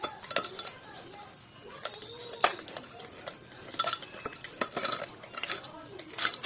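Ice clinking and a spoon stirring in a glass of star apple drink sweetened with condensed milk, giving sharp, scattered clinks and scrapes at close range, with no talk.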